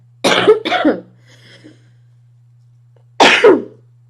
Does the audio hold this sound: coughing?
yes